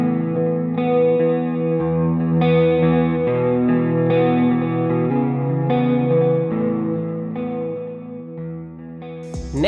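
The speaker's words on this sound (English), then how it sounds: "The left 2 control the choruses, and the right 2 control the other modulation effects." A NUX Cerberus guitar pedal's chorus and modulation effects shimmer over sustained, distorted electric guitar chords, played steadily and close, with a brief burst of noise at the very end.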